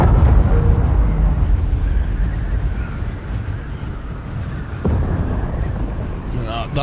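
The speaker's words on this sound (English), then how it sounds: "That was a plane go down." A low rumbling roar from an aircraft crashing in the video game Dune Awakening, a loud sustained boom that slowly fades, with a brief sharper hit near the end.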